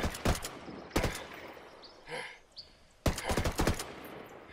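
Gunfire from the video game Ghost Recon Breakpoint in Ghost War mode: loud bursts of rapid shots in two clusters at the start and end, separated by a quieter stretch with a brief whooshing sound.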